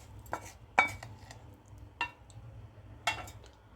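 A spoon clinks a few scattered times against the bowl as a hot tempering is stirred into bottle gourd and semolina batter, with light tapping in a quiet kitchen.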